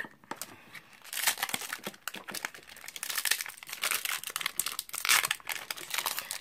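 A Magic: The Gathering Eldritch Moon booster pack wrapper is torn open and crumpled close up, giving a run of crisp crinkling and tearing foil sounds that rise and fall over several seconds.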